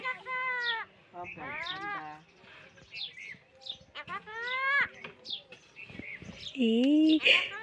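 A talking common myna at a house calls in loud, varied whistles and chattering phrases with short pauses between them, some of the notes sounding like imitated words, with quiet background noise.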